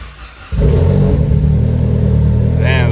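A Mitsubishi Evo engine that had lost compression, freshly primed with oil, cranks briefly and then fires quickly into a loud, steady, smooth idle heard close up, with a faint voice in the background.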